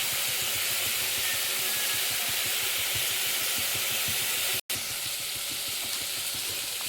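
Ginger garlic paste fries in a hot pan of oil for tomato rice, a steady dense sizzle and hiss with faint stirring scrapes underneath, close and continuous apart from a brief dropout.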